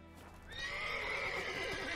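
Roach, Geralt's horse in The Witcher 3, gives a loud, close whinny rising from about half a second in, with clip-clop of hooves continuing under it, and no talk.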